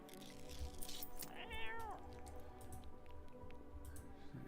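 A cat meows once in a video game, a short rising-and-falling cry heard near and fairly quiet over soft background game ambience.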